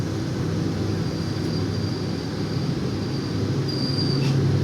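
A train stands at a platform of Cirebon station in Indonesia, with a steady low rumble of idling rail cars and a faint high squeal near the end.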